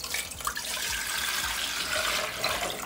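Steady rush of cold tap water pouring into a pot, continuous and fairly loud for a few seconds.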